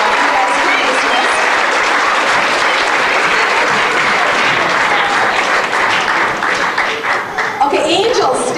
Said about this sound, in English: Let's give the animals a round of applause.